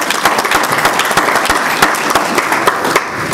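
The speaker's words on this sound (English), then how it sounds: "let's give him a round of applause also" Audience at a condo-purchasing seminar applauding a panelist: dense, sustained clapping from many hands, loud and even throughout, with no speech.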